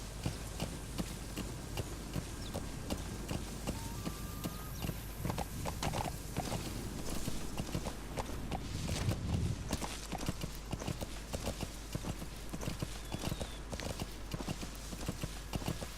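Steady rapid clip-clop of galloping horse hooves in Metal Gear Solid V: The Phantom Pain continues throughout, with a faint whinny partway and a constant low background hum.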